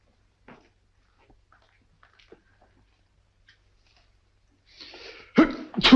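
A single sneeze in an indoor scene of a 1942 Sherlock Holmes film bursts out loudly near the end after mostly quiet room tone, with a short noisy intake just before it.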